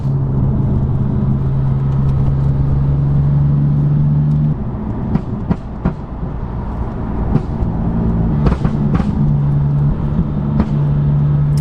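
BMW M3 F80 fitted with an Akrapovič exhaust, its wheels spinning, giving a loud, close, droning engine rumble with a steady low tone that wavers as traction comes and goes, with sharp pops and crackles.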